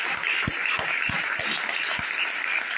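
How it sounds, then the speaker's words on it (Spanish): A church congregation claps loudly together during a sermon, a dense steady wash of applause with a few sharper beats standing out throughout. "Que los que son hijos, den un aplauso fuerte."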